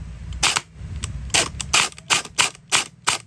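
An A&K AK74 gel blaster toy with a DIY MOSFET install fires in short full-auto bursts, about six sharp, loud rattling volleys spaced across a few seconds, close by with no talking.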